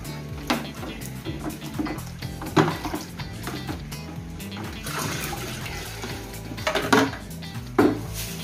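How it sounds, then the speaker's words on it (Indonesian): A spoon clinks and scrapes against a pot as chopped palm sugar is stirred into water for a homemade stale-rice fertilizer. The knocks are close and irregular, with a few louder taps over a faint watery swish. "Lalu kita aduk kembali sampai larut."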